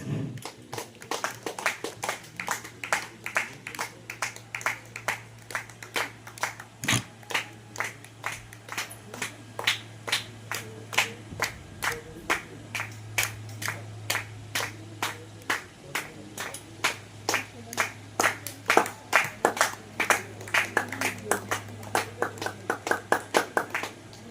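A small group at a family ceremony claps rhythmically for a long stretch, with individual crisp claps spaced fairly evenly over a low steady hum, fairly close.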